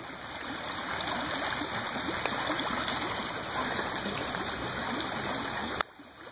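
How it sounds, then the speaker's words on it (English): Creek water runs through a property with a steady close rushing and gurgling flow, continuous for most of the stretch before cutting off abruptly near the end. "it perfectly runs all through the property, and then it ends up right into the back of the creek"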